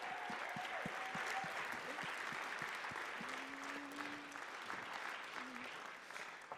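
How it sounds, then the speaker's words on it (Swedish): Warm applause from a church congregation at a Sunday service for Kristin Nordin, a steady wash of clapping holding evenly throughout before easing slightly at the end, fairly distant and soft. "Ska vi ge henne en varm applåd?"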